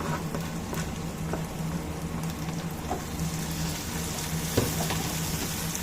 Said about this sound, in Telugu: ఈ టమోటా వేసి ఫ్రై చేసుకుందాం